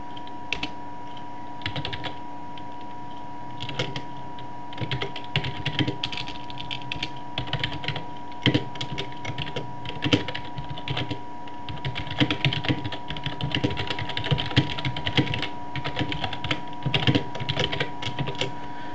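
Code being typed on a computer keyboard in a steady stream of close, crisp keystrokes with brief pauses, no talking, over a faint constant electrical hum.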